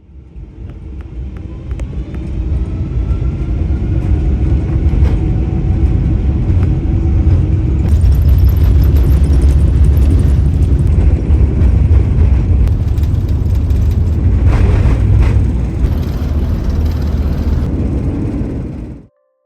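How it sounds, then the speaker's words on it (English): Lufthansa Boeing 747-8 taking off from Frankfurt, heard from the cabin as a loud, steady low roar that builds and holds for the whole run, then cuts off abruptly. "Now let's tune in and listen to that takeoff."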